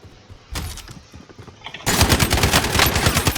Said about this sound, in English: Where the hell am I getting shot at from?